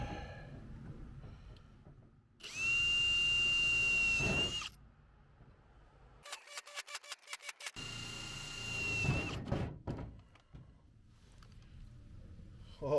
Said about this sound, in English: I should definitely have drilled all these holes in advance